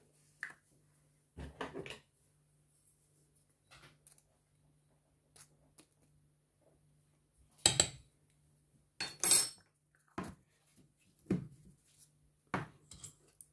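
Milk cake batter mixed in a bowl, a few sparse clinks and scrapes of a utensil against the bowl, quiet and separated by silences.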